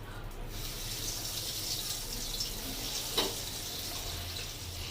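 Fish fingers fry in hot refined oil, giving a steady, close, even sizzling hiss that continues throughout, with one brief clink partway through.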